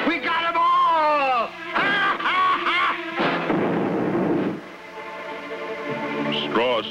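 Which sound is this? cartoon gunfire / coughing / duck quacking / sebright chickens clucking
cartoon gunfire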